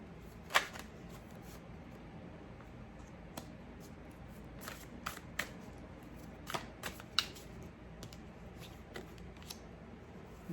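A deck of tarot cards shuffled steadily by hand, giving a quiet papery rustle broken by occasional sharper slaps and flicks as cards fall together, close up and without speech.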